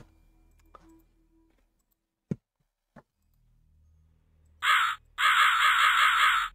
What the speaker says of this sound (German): So, das ist noch der Rabe.